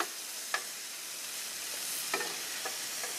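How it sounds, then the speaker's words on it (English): Bacon sizzles and fries in a pan, a soft steady crackling hiss with a few sharp clicks and taps of a utensil scattered through, no voices. "now we're going to go ahead and get this bacon flipped over"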